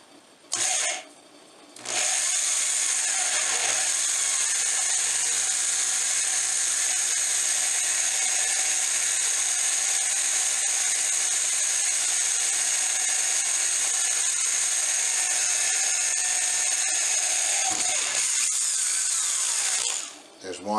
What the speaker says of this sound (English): you see how that drill bit goes in there?